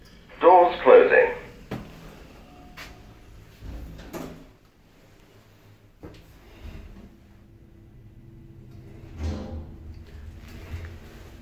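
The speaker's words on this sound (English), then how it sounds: "Doors closing." Lift doors on a 1987 Brell lift modernised by Stannah slide shut with a few thuds and clunks, after a short burst of recorded announcement, in a quiet railway lounge setting.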